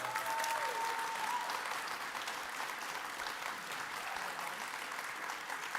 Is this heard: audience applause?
yes